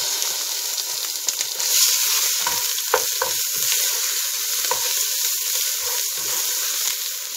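Onion dropped into hot oil and stirred in a pan, a loud steady sizzle broken by several clattering scrapes of a spoon, close and with no talking.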